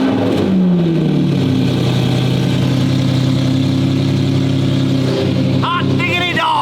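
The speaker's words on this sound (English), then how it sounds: "Oh, you guys want a Mercy cold start? It is the loudest cold start of any car you've ever had." A loud Italian car engine cold-starting, a deep sustained roar with a brief rising rev at the start, filling the space close by, with people's voices breaking in near the end.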